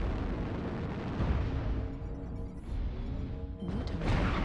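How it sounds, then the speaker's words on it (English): Airstrike explosions in a video game, a continuous rumbling barrage of heavy booms and blasts that builds and swells with dense low-end roar throughout, loud and close. "Airstrike online."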